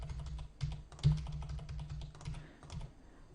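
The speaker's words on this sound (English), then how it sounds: "let's go ahead and just type in some registration data." Someone types registration data on a computer keyboard, a quiet, close run of quick irregular key clicks with no talking.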